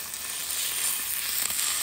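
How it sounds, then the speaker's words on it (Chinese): An A5 wagyu beef steak sizzles in a pan at a campsite, a loud, steady, close hiss of frying fat that fills the short moment with no talking. "煎牛排来吃，就是 A5 和牛牛排"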